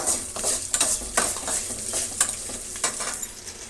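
Garlic sizzles in a hot pan for a quick rice bath, a steady crackle broken by several sharp stirring scrapes, close and alone with no talk.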